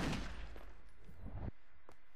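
Rapid bursts of gunfire from the video game Wet, loud and dense through the first second and a half, then cutting off, followed by a couple of isolated sharp shots.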